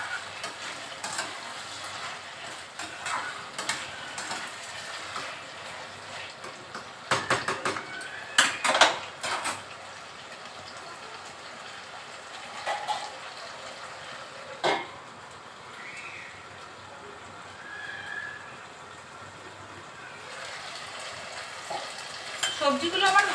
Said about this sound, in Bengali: এটাকে এবার ভালো করে 2 মিনিট ধরে ভাজতে হবে, সব কিছু সবজি এবং কচুগুলো একসাথে।